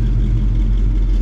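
A 1971 Chevrolet C10 truck idles with a deep, steady exhaust rumble through dual chrome exit pipes, loud and close, a continuous low throb with no talk over it.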